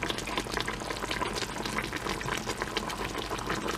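Salisbury meatball gravy simmering and thickening in a pan gives a steady, dense bubbling and popping texture, close and fairly soft, with no voices over it.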